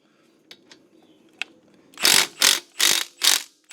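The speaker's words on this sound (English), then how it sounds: "we're going to use a little 3/8 inch impact on them" A 3/8 inch impact wrench hammers off the caliper bolts on a 2005 Honda Accord's front brakes in four loud, close, evenly spaced bursts, after a few faint clicks of handling.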